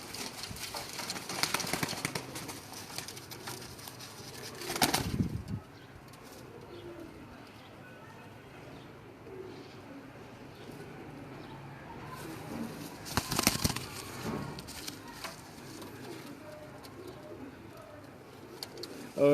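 Pigeons at Ustad Sheikh Tariq's pigeon club in Gujranwala give soft, repeated coos in a quiet loft, with a few louder rustles and bumps and faint voices in the background.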